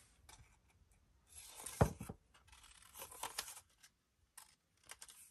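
Scissors cut paper for a graduated-page accordion album, making short crisp snips and rustles in uneven bursts. The sounds are close and quiet, with gaps of near silence between them.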